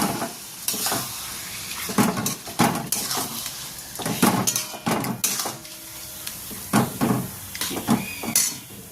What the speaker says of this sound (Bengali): এবার লোটে মাছটা দিয়ে মশলাটাকে আমি খুব ভালোভাবে কষাবো।